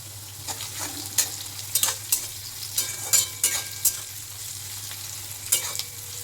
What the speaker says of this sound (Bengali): একসঙ্গে সব ভেজে নিচ্ছি।